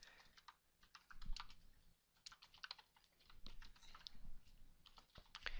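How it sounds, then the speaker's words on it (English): Steady, irregular typing on a computer keyboard, with quick clusters of key clicks and short pauses, close up and alone with no voices. "while I'm typing this"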